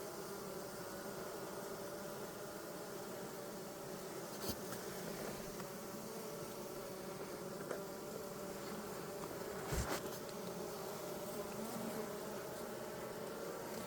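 A dense, steady hum of many honeybees crowded in a small mini mating nuc drones on close and continuous, broken by a couple of faint clicks.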